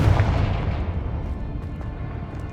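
A Confringo blasting spell goes off in the Hogwarts Legacy video game as a single loud, deep explosion with a heavy booming rumble that fades slowly over a couple of seconds.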